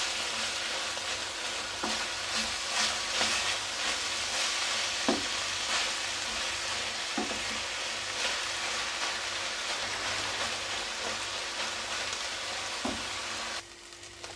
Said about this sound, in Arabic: نحيدهم وندير الخضره حتى هي تشحر